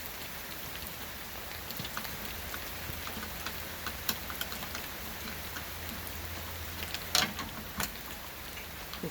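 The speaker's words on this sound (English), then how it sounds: "As it rains on us." Light rain falls steadily around an RV during awning work in Florida, a soft continuous patter with scattered sharper drip ticks and one louder tap near the end, quiet and without voices.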